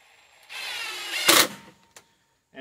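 A handheld power drill whirs for about a second while driving a screw on a sawmill, then gives a short sharper burst and stops, followed by a faint click.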